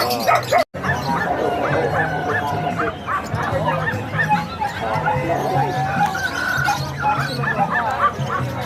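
Dogs bark and yip at a busy animal market in Bocaue selling dogs, birds and other animals, the short barks repeating amid crowd chatter and nearby voices, with one brief dropout early on.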